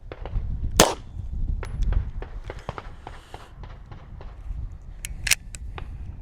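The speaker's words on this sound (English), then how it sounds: "then we are going to run 5 rounds suppressed" A suppressed pistol firing 147 grain synthetic rounds outdoors, several sharp muffled reports spaced out over a few seconds, with one loud crack early and others quieter, amid shuffling noise.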